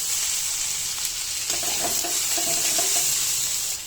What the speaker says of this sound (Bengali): আলুটা ভালোভাবে ভেজে নেব।